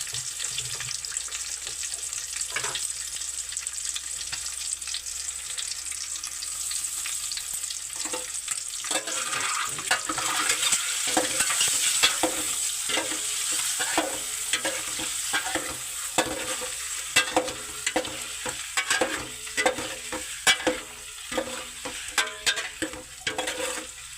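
Salted food fries in a pan, with a quiet start that builds into a steady sizzle and sharp, rhythmic stirring and scraping, alongside running water, with no talking.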